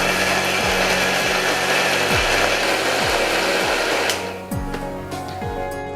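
A mixer grinder dry-churns sugar and biscuits in a loud, steady whirring grind with repeated rattling thumps as the contents tumble, and the tone drops and roughens near the end.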